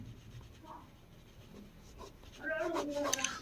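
Pen scratching across paper while a maths proof about similar triangles is written out, soft and intermittent at first, growing louder and busier toward the end with faint room noise beneath.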